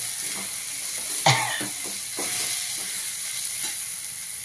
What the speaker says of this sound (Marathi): धणे जिरे पूड घालून आपण छान फ्राय करून घेणार आहोत